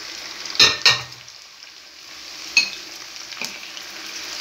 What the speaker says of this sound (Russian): Буду обжаривать печенку на медленном огне.